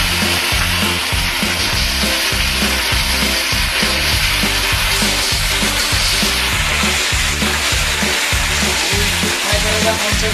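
Potatoes fry in a pan at a festive snail-cooking gathering, giving a loud, steady broadband sizzle with rhythmic scraping strokes of a spatula throughout, no voices.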